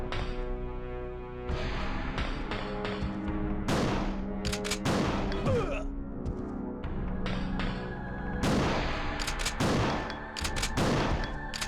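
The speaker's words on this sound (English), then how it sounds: "but we'll use some shotgun" Repeated booming shotgun blasts from the 1998 PlayStation game Resident Evil 2, half a dozen heavy shots spaced a second or two apart over a droning background of game music.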